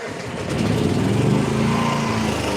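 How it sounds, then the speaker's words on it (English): A portable XL generator, remote-start capable, runs steadily and loudly close by, a continuous engine drone with a rough, buzzing hum that holds even throughout, no voices. "So let's switch on the generator."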